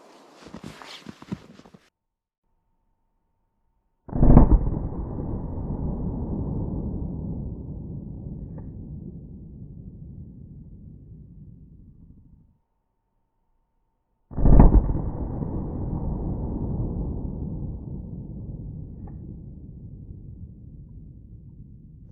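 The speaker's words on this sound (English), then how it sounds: "then we'll hit it with the 44 Magnum" A .44 Magnum firing Winchester Silvertip rounds into ballistic gel at an outdoor range: two loud, sharp shots several seconds apart, each followed by a long booming echo that slowly fades.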